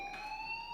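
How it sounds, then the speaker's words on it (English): A fire alarm in the game Life is Strange sounds a steady, piercing electronic tone, loud and unbroken over a brief moment with no voices. "Hey, do you hear that fire alarm?"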